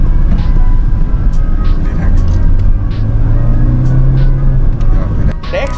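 Engine and road noise from a front-wheel-drive Mitsubishi XForce with a CVT, a steady low drone with a sustained rising tone heard from inside the moving car, loud and continuous throughout.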